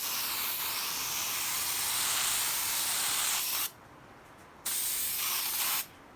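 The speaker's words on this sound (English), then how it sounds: "So I'm going ahead now, I'm gonna spray the adhesive onto the plywood." Adhesive sprays onto plywood for a headboard in a long, close hissing burst, then stops, restarts for a second shorter burst and cuts off again.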